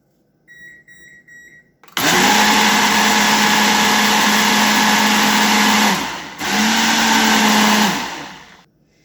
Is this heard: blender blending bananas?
yes